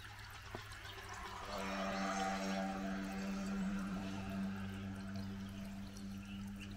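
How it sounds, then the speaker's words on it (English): Water flowing steadily on a farm where a spring or stream starts in sandy ground, a continuous pouring rush that swells after the first second and holds close and constant, with no talk. "here we have flowing water"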